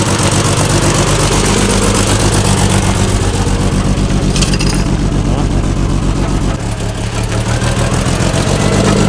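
A 1972 Mercedes W116, revived after twenty years in a garage with a broken exhaust, revs loudly and roughly up close, the engine roar dense and continuous with people talking over it.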